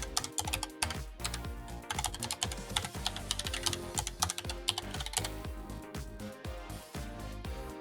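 Fast typing on a computer keyboard entering a website address: dense, irregular clicks and clacks of keys in quick bursts, close and clear, with no speech.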